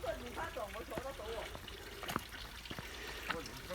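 A little stream trickles over rocks on a secluded hiking trail at Dragon's Back in Hong Kong, a soft continuous watery patter heard faintly beneath someone talking.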